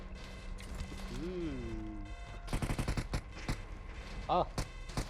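Gunfire in PUBG Mobile, several sharp shots in a quick uneven burst near the end of the stretch, with an in-game mechanical whine before them and a voice speaking under the action.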